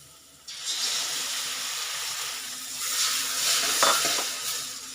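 Beaten egg poured into a hot pan for egg fried rice, bursting into a loud, steady sizzle and hiss with light stirring, close up and continuous.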